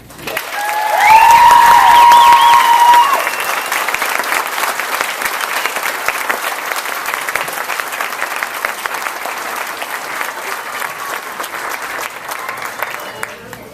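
At a spring 2014 graduation ceremony, the audience applauds a speaker at the close of her speech; loud, dense clapping with a few high whistles and cheers at first, then a sustained, steady roar of hands that slowly thins.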